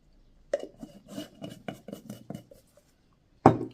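Beef pieces mixed with Kashmiri chili powder masala for Kerala-style beef fry, stirred in a dish with a run of close scraping and clinking strokes, then a pause and one final sharper scrape.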